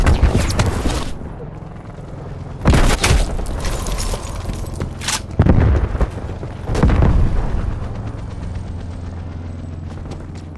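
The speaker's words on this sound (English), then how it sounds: "Artillery inbound." Artillery strikes in Call of Duty: Black Ops Cold War land as several loud, booming explosions spaced a few seconds apart, each with a rumbling tail, over game background noise.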